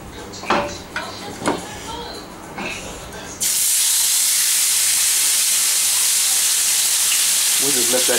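Beef chuck roast hits a hot pan and bursts into a loud, steady sizzle that holds for several seconds. A few soft handling knocks come just before it.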